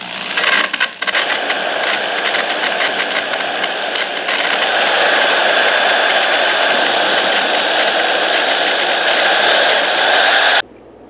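Power tool drilling a hole in a broken office chair arm bracket, a loud, steady grinding whine running nearly unbroken for about ten seconds before stopping abruptly.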